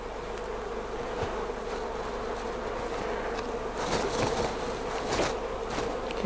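Honeybees buzz while comb is handled in a top bar hive. A dense, steady drone of many insects continues throughout, close to the microphone, with no speech.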